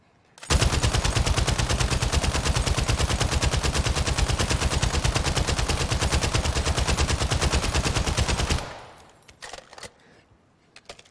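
A RAAL machine gun in Call of Duty Modern Warfare 3 fires one long, unbroken full-auto burst of rapid, loud, evenly spaced shots for about eight seconds, followed by a few scattered clicks and thuds.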